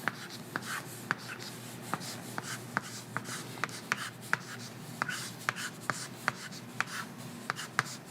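A pen or marker writing out an algebra equation for factoring trinomials, with steady scratchy strokes and small taps as each symbol is formed, close and alone over about eight seconds.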